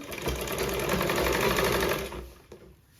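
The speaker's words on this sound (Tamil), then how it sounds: "அதனால் நான் இழுத்து தைக்காமல் தைச்சிட்டு வரேன் பாருங்கள்." An electric sewing machine runs in a fast, steady whirring burst while stitching the neck cross piece of a blouse, then stops abruptly, leaving a brief quieter tail.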